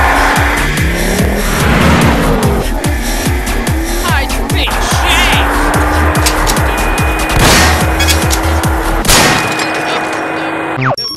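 A truck races through a stickman video game, its engine revving up and down in rapid gear shifts alongside tire squeals, skids and bursts of gunfire, loud and busy throughout.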